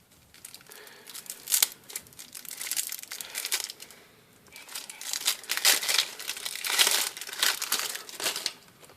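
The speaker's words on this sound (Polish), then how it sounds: "Więc weźmy je, rozpakujmy z tej folii" Trading cards are unwrapped from plastic foil close up, giving bursts of crinkling and crumpling that come and go over several seconds.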